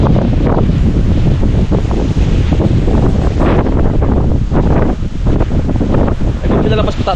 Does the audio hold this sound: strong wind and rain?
yes